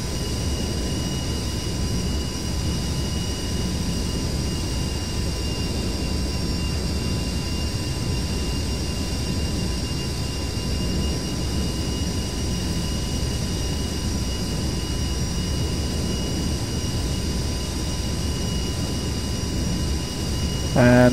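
Jet engine throttling back in the DCS flight simulator, a loud, steady whine and roar with high tonal hums that holds throughout and ends with a brief click.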